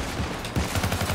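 Gunfire in the co-op shooter Syndicate: a loud, close burst of rapid automatic shots with a steady rhythmic cadence, firing alone without talk.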